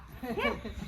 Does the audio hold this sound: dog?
yes